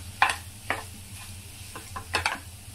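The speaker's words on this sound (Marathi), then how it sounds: "हे मिश्रण छान आपण आता एकजीव करून घेऊया मस्तपैकी।" Boiled potatoes, smashed, being stirred into a vada pav mixture in a pan, giving a few close scraping strokes spaced through a quiet background with no talk.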